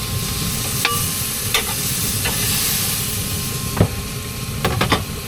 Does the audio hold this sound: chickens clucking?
no